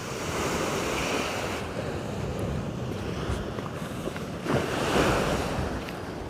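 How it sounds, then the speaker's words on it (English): Choppy sea waves at Dawlish, Devon, rolling in as a steady broadband rush with wind buffeting the microphone, swelling louder toward the end, with no voices. "You can see the waves are getting a bit choppy down there at the moment"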